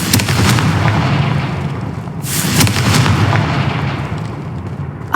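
A Confringo spell explosion in the video game Hogwarts Legacy produces loud, booming, crackling blasts that roll on continuously, with a sharper burst in the middle and no speech.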